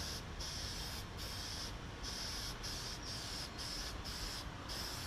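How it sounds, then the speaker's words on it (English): Toner lacquer sprayed from an aerosol onto a Zenith 5-S-29 radio cabinet outdoors in a light breeze: a loud, steady close hiss broken by several short pauses between passes. "I'm going to spray just a little closer than 12 inches, just because I've got just a little bit of wind blowing here."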